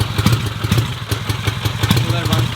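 A 1953 BSA Golden Flash motorcycle idles just after a kick start, its engine chugging in a steady, close, loud rhythmic beat with a mechanical clatter and no one talking over it.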